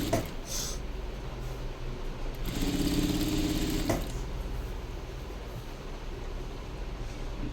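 A sewing machine stitching a high neck blouse, its motor whirring in a louder steady burst for about a second and a half amid constant background hum.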